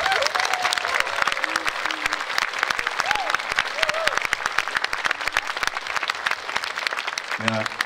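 A concert audience applauds with dense, loud, sustained clapping, a voice speaking over the applause throughout.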